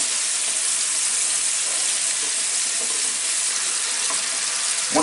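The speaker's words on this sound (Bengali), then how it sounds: "এক চা চামচের মতো মরিচ গুঁড়া, দিয়ে মশলাটাকে আমি একটু কষা নিচ্ছি।" Spice paste with chili powder frying in hot oil gives a steady, dense sizzle that holds evenly throughout, close and fairly loud, with faint stirring scrapes and no voices.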